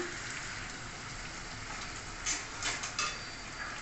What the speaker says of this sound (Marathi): आता चांगलं परतून शिजवून घेऊया